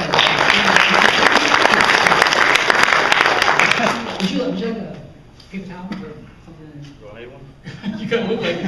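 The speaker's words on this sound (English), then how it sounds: "Give this guy a round of applause." A stage hypnosis show audience breaks into a loud round of applause for about four seconds, then it fades as people talk and chuckle, with a brief swell of clapping near the end.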